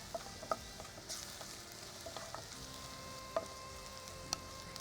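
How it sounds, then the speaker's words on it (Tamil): Onions sautéing in a pan for biryani give a faint, low sizzle close by, with a few sharp clicks and scrapes from stirring. "வதங்கிருச்சு, கிட்டத்தட்ட நல்லா வதங்கி முடிகிற ஸ்டேஜு."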